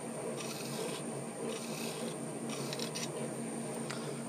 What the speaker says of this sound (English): I'm just knocking the edge off with the file here on this outer edge.